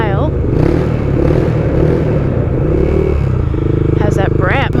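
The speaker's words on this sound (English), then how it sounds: "I'm a big fan of the way this motorcycle sounds." A 1990 Honda GB500 cafe racer motorcycle engine runs steadily with a deep, throaty idle and low rumble, then revs up briefly near the end; voices are heard faintly over it.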